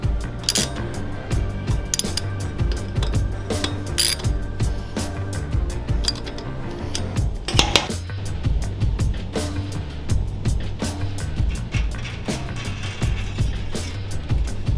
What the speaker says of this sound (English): we will tighten these lock collars on both sides of the brake disc